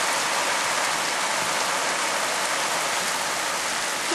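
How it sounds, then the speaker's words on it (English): Heavy rain pours steadily and loudly onto a cardboard box fort, a dense, unbroken hiss of drops drumming on the surface with no let-up. "Right now it is raining really heavily."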